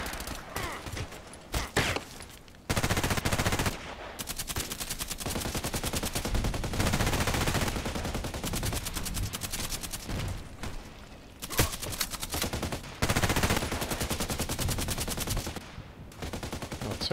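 Rapid sniper and automatic rifle gunfire from a first-person shooter video game, with dense bursts of shots and brief pauses over about seventeen seconds, loud and close.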